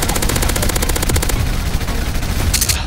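Rapid automatic gunfire in an online shooter video game, loud and close, a fast even burst of shots over the first half, then a rumbling tail and another sharp crack near the end.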